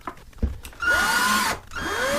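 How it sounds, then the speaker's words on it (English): A hand drill countersinks pre-drilled holes in a Mandalorian helmet, two short whining bursts of the bit biting in, loud and close, separated by a brief pause. "The next thing we're going to do is countersink."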